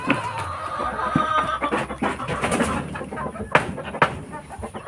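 Chickens cluck and squawk in a backyard coop of laying hens, a busy, continuous chorus of overlapping calls with a few sharper squawks standing out, close and fairly loud, with no talk.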